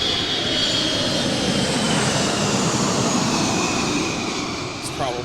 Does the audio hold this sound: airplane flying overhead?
yes